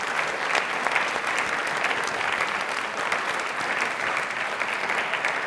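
A studio audience at a Rajasthani television quiz show gives loud, sustained applause that stays even throughout, with no talking over it.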